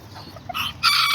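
Serama and Aztec bantam chickens in a backyard pen, giving a short, loud, nearby call that rises into a bright crow-like cry at the end, with no talking.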